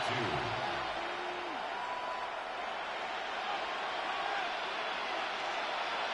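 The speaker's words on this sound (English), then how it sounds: "This crowd into it now." Stadium crowd in an American football video game, a steady, continuous roar filling the whole stretch at an even level with no breaks or distinct surges.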